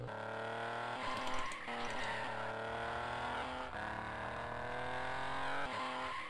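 Engine of a rally car in the 1000 Miles Rally arcade game, a continuous buzzing drone whose pitch climbs steadily as it accelerates, dropping back briefly with each gear change, loud and close with no talk.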